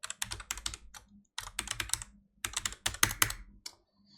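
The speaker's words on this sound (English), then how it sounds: "M on the keyboard" Keys clatter on a computer keyboard while working in Blender, with several quick bursts of close, crisp clicks separated by brief pauses.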